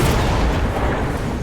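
Dense, continuous barrage of missile strikes and explosions in the strategy game Mechabellum, a steady loud rumbling wash of impacts with no pauses and no talking.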